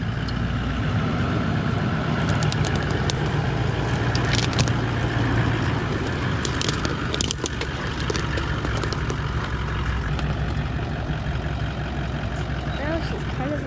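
Toyota LandCruiser 79 series truck engine idling in a steady, loud rumble on an offroad trip through creeks, with people talking over it throughout.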